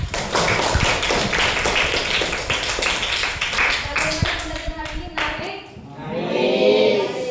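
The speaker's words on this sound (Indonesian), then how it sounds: "Oke, tepuk tangan dong." Students clap together in a classroom, a brisk run of sharp, close hand claps with voices mixed in, fading out near the end as talk takes over.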